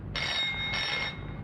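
An old-fashioned telephone bell rings in two long trilling bursts with a short gap between them, clear and fairly close, in a 1949 black-and-white Bollywood film.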